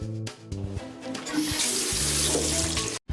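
Water running from a bathroom tap into a sink, a loud, close, steady splashing stream with a few brief interruptions and a sharp cutoff near the end, with no talk.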